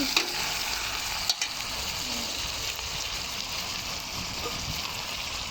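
Fish fries in a pan with onion, giving a steady, broad sizzle that runs throughout with a few small pops and clatters on top and no talk.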